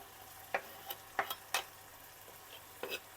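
Onion fries faintly in a pan, a soft sizzle broken by scattered clicks and scrapes of stirring nearby.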